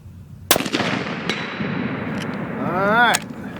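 A Sako 85L Grey Wolf rifle in .30-06 fires one loud, sharp shot that rings out in a long echoing tail, followed by a fainter second crack. A voice-like sound rises briefly near the end.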